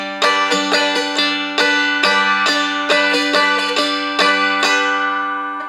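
Blues strum on a mountain dulcimer in waltz time, four bars of repeated plucked-string chords with sharp rhythmic attacks and ringing sustain, close and clear with no talking.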